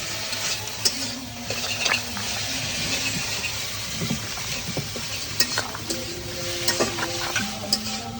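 Ground spice paste sizzles steadily in a pan while a utensil scrapes and stirs it in repeated strokes, with occasional clinks against the metal and no talking.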